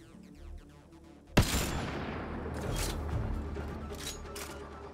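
Gunfire in the PC game Mass Effect Andromeda opens with a sudden sharp blast, then rolls into a sustained, loud burst of shots and bright mechanical weapon noise.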